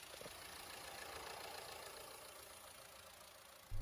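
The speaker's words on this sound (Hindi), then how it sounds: "fiat JTD multi jet 2 diesel engine है ये" A 2022 Jeep Compass Model S 4x4 automatic with a 170 hp, 2.0-litre Fiat JTD Multijet 2 diesel idles steadily at close range with a constant, even rumble, ending with a sudden low thump.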